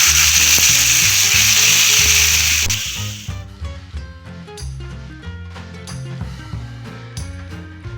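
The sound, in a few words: frying julienned chicken with crushed ginger and garlic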